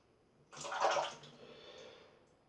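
A Mühle R89 Twist safety razor fitted with a platinum Bluebird blade scrapes against the grain on a second pass, giving one close, rasping stroke that swells and then trails off softly, with no talking.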